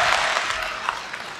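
Audience applause on a televised Korean singing competition show, a dense, steady wash of clapping throughout, fairly loud and without spoken words.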